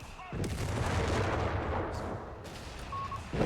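Artillery firing in the Company of Heroes 3 video game, a heavy booming blast followed by a rolling rumble that fades, then a second thump near the end.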